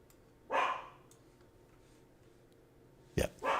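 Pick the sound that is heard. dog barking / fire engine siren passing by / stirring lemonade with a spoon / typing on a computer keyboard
dog barking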